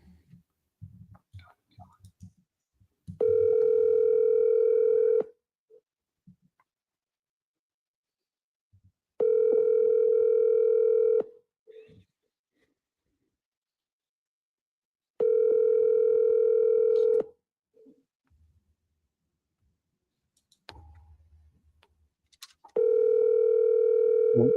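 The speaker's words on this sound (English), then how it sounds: "While he's dialing" Steady dial-tone bursts, about four of them, each lasting two seconds or more, heard while a phone call is being dialed. Quiet gaps and faint clicks fall between the tones.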